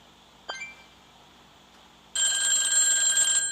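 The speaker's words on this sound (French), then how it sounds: "Mon téléphone sonne." In a Kiss Rock City video game episode, a phone rings with a bright electronic ringtone. A faint beep comes first, then the loud, sustained trilling ring.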